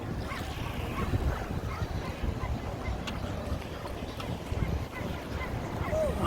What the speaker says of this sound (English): And you hear some dogs barking there.